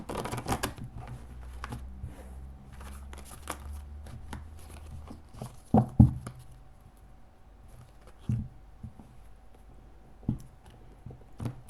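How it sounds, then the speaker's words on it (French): Tarot or oracle cards with a slightly flexible stock are shuffled by hand in soft, irregular riffles and taps, with a few louder slaps and flutters spread through a quiet room. "On va mélanger comme ça."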